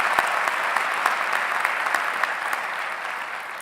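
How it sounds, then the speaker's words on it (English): An audience at a 2019 WPI undergraduate commencement ceremony claps steadily, with a dense, even round of applause that holds throughout and tapers slightly at the end. "Let's give them a round of applause."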